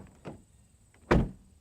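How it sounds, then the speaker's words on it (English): A 2025 Infiniti QX80 Autograph door shuts from outside with one loud, close thunk, preceded by a softer handling bump a moment earlier. "the door has a pretty solid sounding thunk from the inside, but I have to say it sounds really cheap and tinny from the outside."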